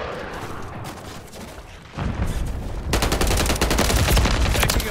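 Dense, sustained automatic gunfire in a Call of Duty match, rapid rattling bursts that grow heavier and louder midway, with a constant roar of battle and no clear talk.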